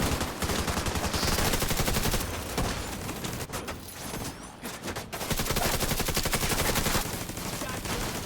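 Video game shooting at control points, with rapid, loud automatic gunfire rattling almost continuously, briefly thinning midway before resuming at full intensity.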